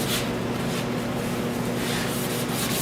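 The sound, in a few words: wet sanding a car door jamb with 600 grit sandpaper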